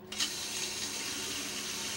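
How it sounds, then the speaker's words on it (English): Water from a tap streams steadily into a sink, a close, continuous hiss and splash that begins abruptly and runs on without break. "Hot and cold running water."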